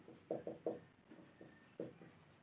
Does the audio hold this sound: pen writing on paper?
yes